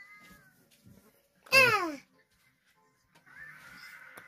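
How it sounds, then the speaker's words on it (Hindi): A pet house cat gives one loud, drawn-out meow up close while asking for milk, with quiet pauses and faint household sounds around it. "म्याओ म्याओ करके, अब ये मांग रही है दूध"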